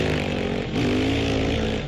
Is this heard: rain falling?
no